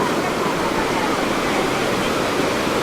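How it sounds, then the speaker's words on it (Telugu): Sea waves surge fast onto the Hamsaladeevi shore, heard as a steady, dense roar of surf that stays loud and close throughout, with no breaks and no voices. "సముద్రం, సాగరం చాలా వేగంగా పరవళ్ళు తొక్కుతూ ఆ కెరటాలు అలా ఈ హంసలదేవి తీరానికి"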